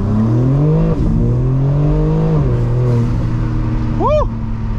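A BMW G82 M4 with a louder aftermarket exhaust idles and revs close by, its deep engine note rising and falling in steady pulls, with a brief voice cutting in near the end.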